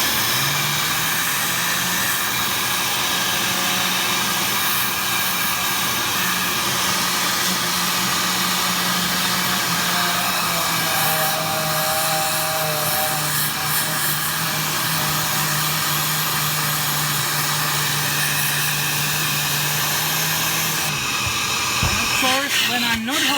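A Tornador Black Z-020 air-driven cleaning gun blasts wet automotive carpet alongside a running vacuum, producing a loud, steady hissing roar with a constant low motor hum throughout, shifting slightly near the end.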